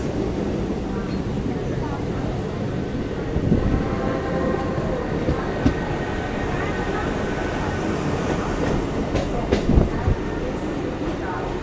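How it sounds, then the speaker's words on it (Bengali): A local train on the Barddhaman to Katwa line rolls into Katwa Junction station, a steady rumbling interior roar with occasional clunks and rattles, and a voice talks over it. "আমরা এখন কাটোয়া জংশন রেলওয়ে স্টেশনে ঢুকছি।"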